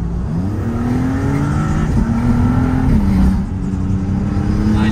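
A Maserati MC20 sports car accelerates hard, its engine note climbing loud and close through rising gear pulls with a brief dip at a shift, a continuous roar with no talk.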